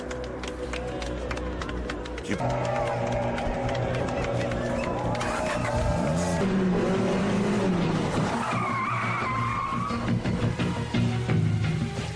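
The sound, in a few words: race cars driving in an action film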